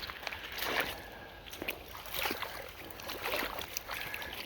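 Water sloshes faintly in a gold prospecting test pan, with soft rhythmic swishes repeating every second or so over a quiet outdoor background.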